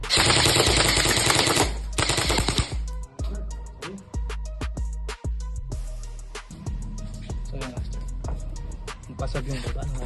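An airgun rifle fires on full auto in rapid, loud bursts: a long dense stream of shots at first, then shorter clusters of sharp cracks separated by brief pauses.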